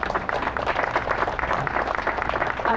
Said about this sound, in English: Gil Canones, our President and CEO of NYPA, let's give him a special round of applause.